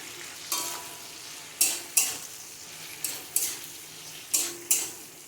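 Vegetables being stirred in a pan after tempering for a fish curry (macher jhol), with sharp repeated scraping strokes of a spoon against the pan at irregular intervals over a quiet sizzle.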